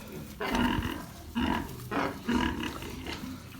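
A sow gives a series of deep, rough grunts in short bursts, close and fairly loud, with no talking, during farrowing at night.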